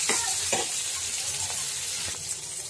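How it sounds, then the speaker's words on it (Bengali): Dried fish (shutki) fries in a pan, a moderate steady sizzle broken by several short stirring scrapes, with no talking. "তারপর শুকিগুলো একটু ভালোভাবে ভেজে নিব।"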